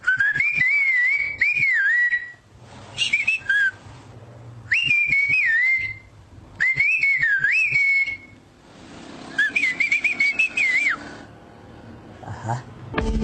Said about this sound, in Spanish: Si ahorita puedo hacer un chiflido hacia mi primo que se encuentra allá afuera,